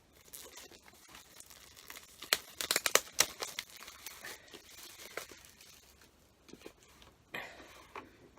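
A plastic sleeve around a book in an album box set crinkles and rustles during unboxing, close and fairly quiet, with a burst of sharp crackles in the middle and scattered softer handling after.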